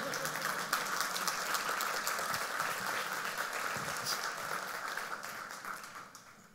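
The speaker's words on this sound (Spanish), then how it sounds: "Pueden aplaudir, no hay ningún problema." An audience at an oil and gas industry panel session applauds for a milestone offshore well: a broad, steady patter of many hands clapping that holds evenly, then tapers off toward the end.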